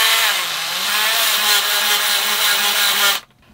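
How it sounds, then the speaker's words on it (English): A harsh, buzzing, worn-out Bosch power drill whines steadily at close range for about three seconds, then cuts off abruptly. "I think I need a new drill. Yeah. Hear that?"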